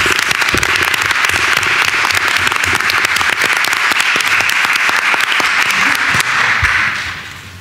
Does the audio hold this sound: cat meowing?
no